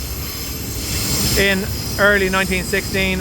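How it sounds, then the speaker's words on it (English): A train passes overhead, its wheels squealing in a hissing, tonal screech that rises and repeats beneath someone speaking steadily about history. "I'm sorry about the noise train passing overhead."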